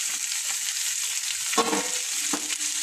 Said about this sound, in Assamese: গোটেইখিনি দি এতিয়া মই ভাজি ল'ম।